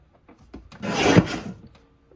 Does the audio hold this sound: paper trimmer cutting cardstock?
yes